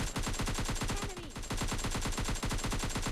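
Automatic gunfire from PUBG Mobile Lite rattles in a fast, evenly spaced stream of loud shots, broken by one brief pause near the middle before the burst resumes at the same rapid pace.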